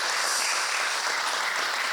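A seminar audience claps in a steady, dense round of applause that holds at an even level throughout, with no talk over it.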